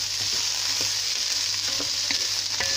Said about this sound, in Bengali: এখন আমি ভেজে নিব চালের সাথে আদা রসুন পেস্ট।